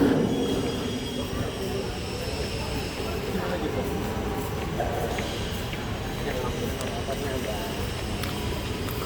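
A train at Tanah Abang railway station in Jakarta gives a continuous loud rumble with wheel and rail noise throughout, mixed with station crowd voices.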